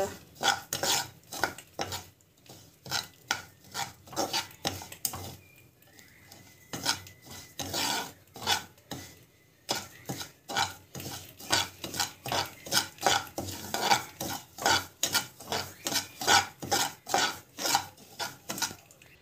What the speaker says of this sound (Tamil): ரவை போட்டு நல்லா வந்து வறுத்துக்கணும்.